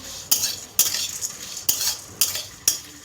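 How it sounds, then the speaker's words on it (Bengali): Whole spices (fennel, cumin, cinnamon, cardamom, cloves, pepper, dried chili) and turmeric being fried in a pan for a meat curry, heard as five sharp metal stirring scrapes over a low sizzle, with no speech. "মৌরি, জিরে, দারচিনি, এলাচ, লবঙ্গ, গোলমরিচ, শুকনো লঙ্কা, টারমেরিক, এগুলো ভালো করে ভেজে নেব"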